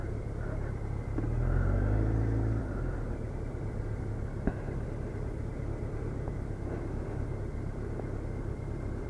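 A BMW K1200RS motorcycle rides through traffic, its engine a steady low rumble with a brief swelling drone early on and passing vehicle noise around it.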